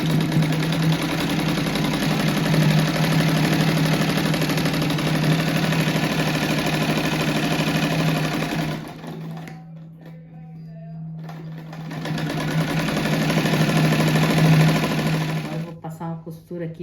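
A sewing machine hums and stitches steadily around the edges of a rabbit-shaped rug. It runs close and continuous for most of the clip, pauses briefly and starts again, with a voice talking over it.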